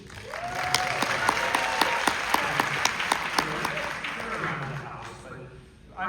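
A film festival audience in an IMAX theater claps, the applause broad and sustained with a few sharp nearby claps, as a voice speaks over it before it thins out.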